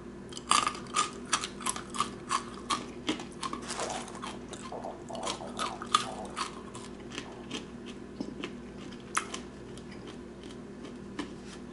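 Crunchy bits of pork left after rendering fat are chewed close to the mic, with a run of sharp, crisp crunches in an uneven rhythm that slows toward the end.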